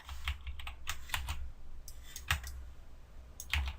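Computer keyboard keys pressed in scattered clicks and short bursts while working in the lasso tool of an image editor, close and fairly quiet, with no speech.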